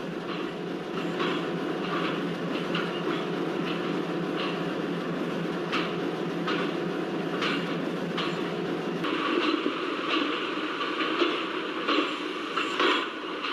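A WDM3A diesel-hauled Shivamogga Town to KSR Bengaluru passenger train crosses the Tunga River bridge, its wheels beating out a steady run of rhythmic clacks over a continuous rolling rumble, with a slight shift in tone toward the end.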